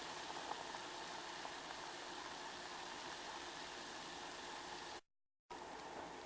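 Water boils in a pot for ginger tea with a steady rumbling bubble and hiss, close by, broken by a brief silent gap near the end.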